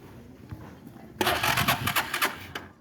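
A broken-down motorcycle's engine is kicked over with the choke on and catches abruptly, settling into a loud, close, uneven sputtering run that fades toward the end, with faint voices in the background.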